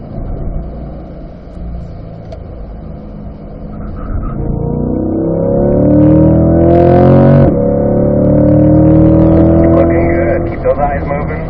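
Car driving a cone-marked track course, engine droning steadily then rising and falling in pitch as it accelerates, close and continuous while a person talks.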